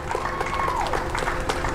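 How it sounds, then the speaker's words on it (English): Small crowd cheering and clapping as NASA astronauts Bob Behnken and Doug Hurley walk out to launch, a steady mix of applause and shouts held at a constant level for a couple of seconds. "Small crowd, but big cheers."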